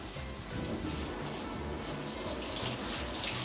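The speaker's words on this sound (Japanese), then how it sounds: "水で落としていきます。" Steady running water from a shower splashes continuously, rinsing foam off a bathroom door, with a constant broadband rush throughout.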